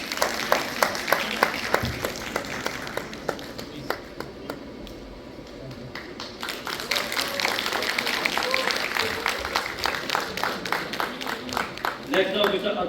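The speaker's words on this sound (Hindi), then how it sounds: "जोरदार तालियां इनके लिए।" Audience clapping at a youth conclave panel on Jammu and Kashmir filmmaking, with distinct near claps over scattered crowd applause that swells midway and keeps going, a voice talking over parts of it.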